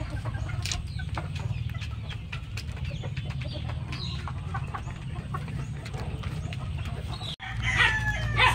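Pure Gilmore gamefowl in a farm pen cluck and call repeatedly, near and moderately loud over a low steady background hum, with a brief break near the end before the clucking resumes.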